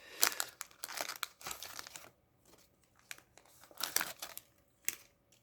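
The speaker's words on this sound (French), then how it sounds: "On retire le papier." Close, quiet crinkling and tearing of a paper wrapper being removed from a package, in short bursts with brief pauses between the rustles.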